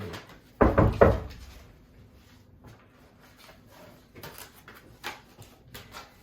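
Three quick, loud knocks land on a door close by, followed by a quiet stretch with a few faint bumps and no voices.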